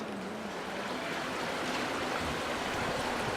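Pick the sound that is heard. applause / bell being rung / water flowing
water flowing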